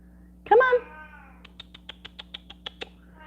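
A cat lets out one sharp, loud meow from another room, followed by a run of quiet, evenly spaced tapping or clicking sounds over a steady low hum.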